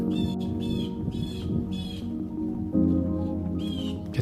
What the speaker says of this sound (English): get to hear the squawking crows, even though I think that's like a grackle, blue jay